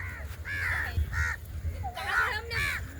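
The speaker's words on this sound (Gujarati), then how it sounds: "આ કાગડા જો કચરું ખાયા બિચારા" Crows cawing at a Hanuman temple, where they pick at discarded food; several harsh caws in quick pairs, near and clear, with some talk in the background.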